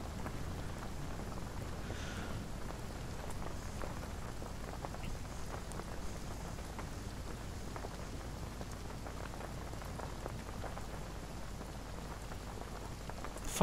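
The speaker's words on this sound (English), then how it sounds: "Give your rain spell a go next time you get Jahan." Rain from a spell cast in the video game Divinity Original Sin, a steady, even hiss of falling rain and pattering drops that holds constant throughout, with no voices over it.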